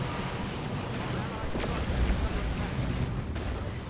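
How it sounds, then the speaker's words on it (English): Orbital bombardment in the strategy game Dawn of War 2, a dense, continuous rumble of heavy explosions and booming impacts that fills the scene with a dull roar, with voices talking over the battle. "And that's an orbital bombardment from the Tenso."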